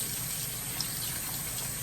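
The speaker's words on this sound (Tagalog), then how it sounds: "Buksan nyo yung gripo." A bathroom tap runs in a faint, steady wash of flowing water, with no voices over it.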